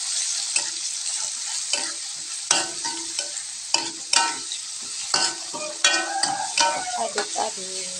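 A ground spice paste for spicy sambal goreng jengkol fries in a pan while being stirred, giving steady close sizzling broken by repeated scraping and clacking strokes of the utensil.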